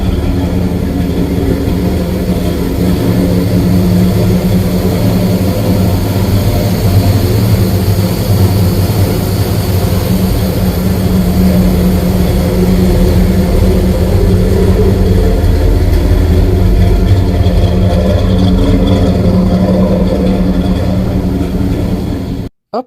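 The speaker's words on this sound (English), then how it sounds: "took the Coronet out on test drive" A 1967 Dodge Coronet fitted with a disc brake conversion drives on a test drive, its engine a loud, steady low rumble with road and wind noise throughout.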